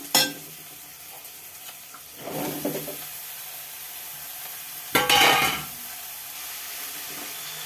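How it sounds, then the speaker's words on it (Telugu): Ridge gourd pieces go into a hot pan and fry with bursts of sizzling and stirring, each lasting about a second and followed by a steady low hiss. No one speaks. "బాగా ఏగినాయి బీరకాయ ముక్కలు వేసుకుందాం"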